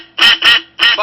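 Three loud, nasal duck quacks follow in quick succession, close up and clear against silence.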